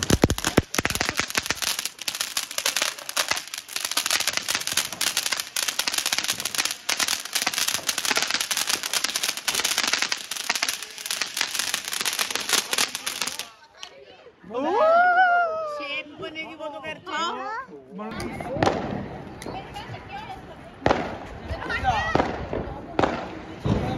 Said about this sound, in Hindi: द्रुमिल जलाएगा मोंकी वाले बम